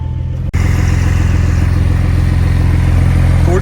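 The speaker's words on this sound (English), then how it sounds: "Gorgeous exhaust note on it." A Porsche 911 with its sport exhaust switched on fires up with a sharp crack, then settles into a loud, deep, rumbling idle that stays close and steady.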